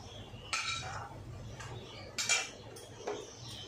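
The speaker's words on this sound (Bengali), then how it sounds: "দেখো আমি এবার এই বড়াগুলো তুলে নিচ্ছি, তুলে তোমাদের প্লেটে দেখাচ্ছি।" Coconut banana-flower fritters lifted out and set on a plate: a few close metallic clinks and scrapes of a utensil against the dish, spaced apart over soft background noise.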